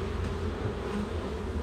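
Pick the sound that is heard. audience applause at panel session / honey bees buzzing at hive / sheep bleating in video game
honey bees buzzing at hive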